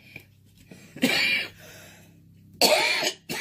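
Two harsh, close coughs separated by a pause and a quick breath, each a rough burst lasting about half a second.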